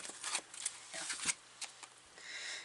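Quiet crisp riffling and flicking of cards being shuffled by hand, several short bursts that end in a longer soft ruffle.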